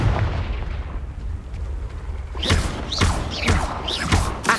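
Confringo blast spells firing in the Hogwarts Legacy video game: after a low rumbling lead-in, four sharp bursts land in steady succession, each a crisp crackling impact over continuous game ambience.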